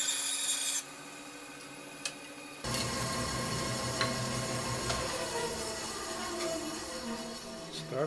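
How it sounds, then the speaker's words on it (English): A rough file rasps steadily across wood while shaping a cigar box guitar, a continuous scraping texture that starts abruptly after a quieter opening and runs to the end, close and moderately loud. "So I'm just going to smooth this little area out here with a rough file."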